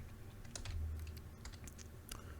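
Quiet typing on a computer keyboard while copying commands for a local development setup, a soft irregular run of key clicks over faint background hum, no voice.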